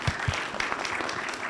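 An audience applauds an artist after a talk, a brief burst of dense clapping with a couple of heavier thumps at the very start.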